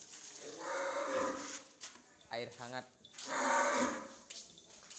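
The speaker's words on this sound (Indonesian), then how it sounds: "untuk sapi yang baru datang dari tim GRT Ceria" Cattle newly arrived at a holding pen low in short harmonic calls between stretches of nearby speech and background noise.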